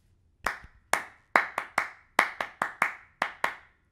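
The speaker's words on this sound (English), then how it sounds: "clap 3 times" Crisp, isolated hand claps sound close and loud in a quiet room. There are about ten of them in uneven bursts rather than only three, with no talking.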